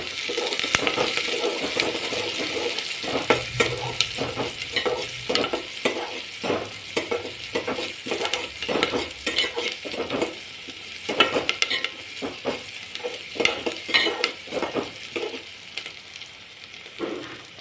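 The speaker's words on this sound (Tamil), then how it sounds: "வெங்காயம், பச்சை மிளகாய், கருவேப்பிலை போட்டு நல்லா தாளிச்சு விட்டுருங்க" Oil sizzles and crackles steadily as onion, green chili and curry leaves fry in a pan, with repeated stirring scrapes breaking through at an irregular rhythm, close up and without speech.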